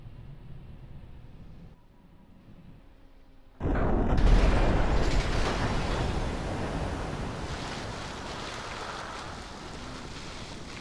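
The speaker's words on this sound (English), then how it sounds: "This one went straight into the pool." A car in the video game GTA 5 plunges into a swimming pool, a sudden loud splash-like burst near the four-second mark after a quiet lead-in, followed by sustained rushing water and turbulence that slowly fades.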